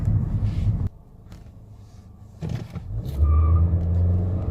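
A Nissan Altima 2.5 SV drives on a road with a steady, loud engine and road rumble, a brief drop in level partway through, then a heavier surge of low engine drone as it climbs and pulls harder.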